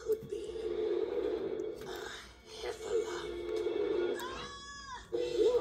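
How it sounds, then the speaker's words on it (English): A cartoon cat gives a short rising-and-falling meow near the end, over steady background music and a voice speaking. "Oh, nice cat."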